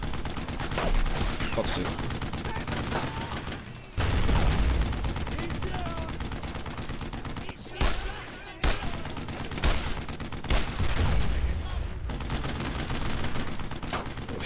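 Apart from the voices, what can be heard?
heavy gunfire in video game Brothers in Arms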